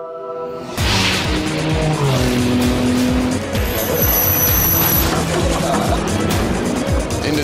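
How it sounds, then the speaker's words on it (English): An Audi race car at the 24 Hours of Le Mans roars past loudly, a sustained engine howl with tyre noise, with no talk over it. "Benoit Tellier in the number 2 Audi has just come through there."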